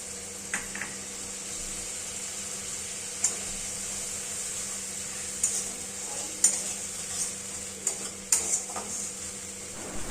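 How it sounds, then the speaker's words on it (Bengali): Spice masala for soybean do-piyaza fries in a pan with a constant thin sizzle. A utensil stirs and scrapes it in scattered, sharper strokes, close by with no voices. "সুন্দরভাবে নাড়াচাড়া করে মশলাটা আমরা কষতে থাকব।"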